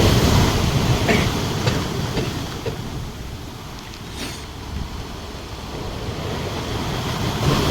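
Strong monsoon sea waves pounding the shore at Ponnani in heavy rain, a steady loud rushing wash with no voices.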